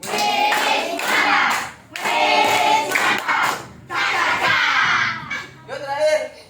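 An audience breaks into applause as a show of appreciation: three loud bursts of dense hand clapping separated by short pauses, with voices mixed in among the clapping.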